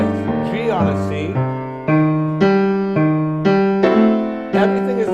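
Walking bass line aiming at the fifth of each chord, played as a steady series of distinct low notes with chords struck over them, loud and close with no talking.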